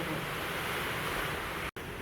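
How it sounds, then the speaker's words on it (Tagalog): Strong typhoon wind roars against a window, a dense steady rushing noise that is loud and unbroken apart from one brief dropout near the end. "Masyadong malakas yung hangin, papasok yung ulan."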